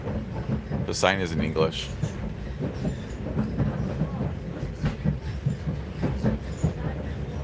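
Diesel multiple unit train DMU 711 running between Loznica and Belgrade, Serbia, heard from inside as a steady rumbling drone with faint rail clatter, while people talk over it throughout.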